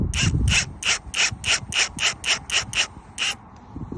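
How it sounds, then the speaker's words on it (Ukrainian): A 55 mm self-tapping screw is driven into an adobe wall, making about eleven evenly spaced, bright clicking bursts close by, in a steady ratchet-like rhythm that stops near the end. "Ось беремо саморіз 55-й, закручуємо його."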